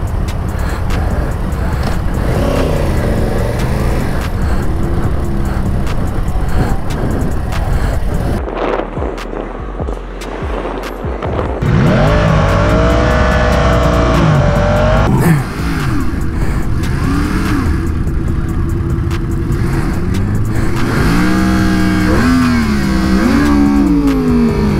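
A 2020 Yamaha R1M motorcycle pulls away in a regular takeoff, its engine loud and close, revving up through rising pitches with brief drops between gears and strong roar throughout.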